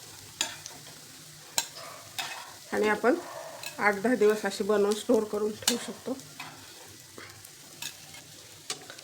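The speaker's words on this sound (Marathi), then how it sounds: "म्हणजे शेलो फ्राईज करून घ्यायच्यात" Alu vadi slices shallow frying in a pan, a steady sizzle broken by scraping stirs and sharp utensil clicks, with someone talking over it.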